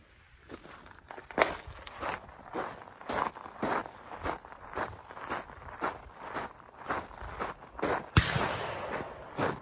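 Footsteps walk downrange toward a target at an outdoor shooting range, a steady crunching stride of even, fairly close steps with light scuffs, continuing throughout without talk.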